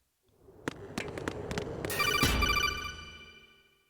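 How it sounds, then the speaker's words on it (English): A Metal Gear Solid 2 codec call rings in, with several clicking beeps that build into a bright electronic ringing tone, sustained and then fading. "Let's send this call to voicemail"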